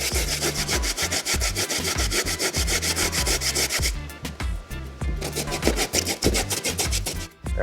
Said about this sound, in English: Grate out the carrot.